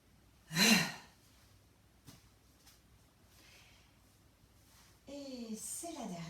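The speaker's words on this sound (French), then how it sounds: "Grande respiration." A single deep breath drawn in and let out during a slow stretching session, a loud breathy gust near the start, then a quiet room with a faint tap and a brief voice-like tone near the end.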